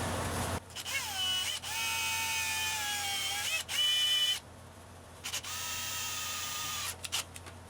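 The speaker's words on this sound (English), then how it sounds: "I'm going to drill a little hole in it, and then I'm going to thread this bolt in it." A small hole being drilled into a rear main seal during clutch work, with a whining drill motor that rises and falls in pitch across several bursts, broken by short pauses.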